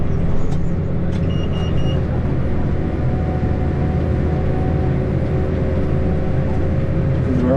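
A tractor pulling a 20-foot, 8-row corn planter drones with a steady, loud low engine rumble close by, a faint high whine briefly riding over it at the start, no talk.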